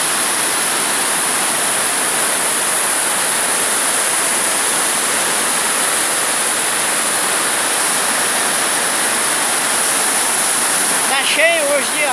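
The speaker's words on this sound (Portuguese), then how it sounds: "nessa gruta que é estreito e muitas águas caem aqui" Water pours loudly down inside a narrow cave near Itararé, a dense, unbroken roar that stays close and constant throughout, with a brief faint voice-like sound near the end.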